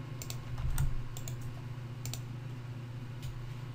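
Quiet clicks of typing on a computer keyboard, a few short bursts of keystrokes spread through the clip over a low steady hum, with no one speaking.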